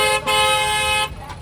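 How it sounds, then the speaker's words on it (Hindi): A loud, sustained train horn sounds at Varanasi Junction station, a rich steady blast lasting about a second that cuts off abruptly into the noisy station ambience. "ये हॉर्न का वेट कर रहा था मैं"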